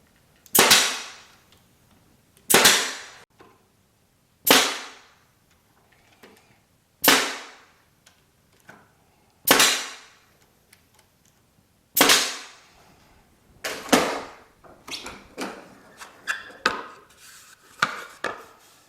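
Nail gun firing nails into a wooden workpiece in a shop: six sharp, loud bangs spaced about two seconds apart, each ringing out briefly, followed by a cluster of quicker, lighter clatters and knocks.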